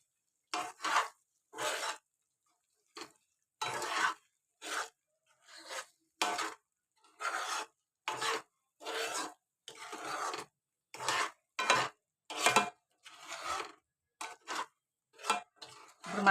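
Eggplant masala curry is stirred in a pan in repeated short scraping strokes, each a brief rasp separated by quiet gaps, fairly close with no talk.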